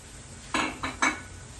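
Braised pig lung stir-fried in a wok over high heat, three quick metallic scrapes of a spatula against the pan in close succession, then quiet.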